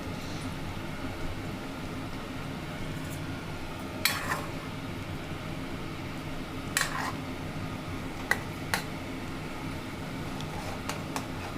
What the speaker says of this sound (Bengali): ভালো করে ডিমগুলোকে যাতে গ্রেভির মধ্যে ঢুকে যায় সেরকমভাবে নাড়িয়ে দিচ্ছি।